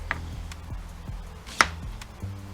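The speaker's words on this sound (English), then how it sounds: "So just cut it in half." A knife chops through a vegetable on a cutting board for a shrimp stir fry: a run of regular thuddy taps, about one every half second, with one sharper crack partway through and no talk.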